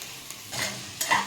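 Tomatoes and green chillies frying in a pan for mutton curry, giving a soft sizzle with a couple of brief louder stirring scrapes, close by and with no one talking.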